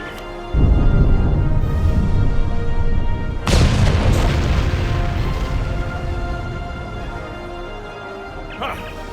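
A heavy explosion booms in the PC game Star Trek Online, with a loud opening blast followed by a second rumbling detonation that slowly fades, and a voice speaks over it.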